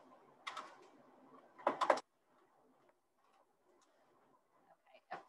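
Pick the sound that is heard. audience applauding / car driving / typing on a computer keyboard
typing on a computer keyboard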